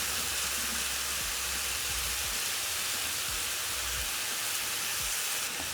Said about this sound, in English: So also I'm frying my potatoes in the bacon grease that remained when frying my bacon.